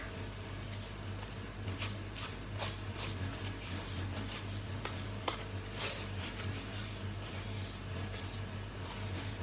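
Cake batter ingredients, including sugar, get stirred in a bowl with soft scraping and rubbing strokes in a repeated rhythm, faint and close, over a low steady hum.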